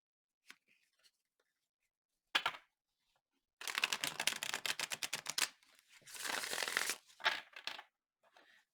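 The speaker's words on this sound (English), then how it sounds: "We'll shuffle again." Tarot cards are shuffled by hand at close range: a few isolated taps, then two dense riffling bursts of papery flutter lasting about two seconds each, followed by scattered card snaps, with no talk.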